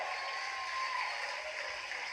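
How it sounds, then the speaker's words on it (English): Crowd at a Falcon 9 Block 5 launch of Bangabandhu Satellite-1 cheers and claps in a steady, dense roar after satellite deployment, loud and continuous with no voices standing out. "As you can tell, the crowd is extremely excited."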